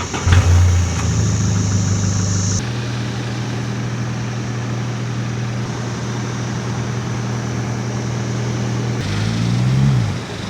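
A car drives along dirt tracks, its engine humming steadily from inside the cabin with a shift in tone near the start and a brief revving rise near the end, no talk.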